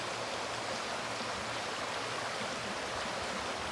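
A mountain stream runs steadily under trees, a soft continuous wash of water with no breaks and no voices.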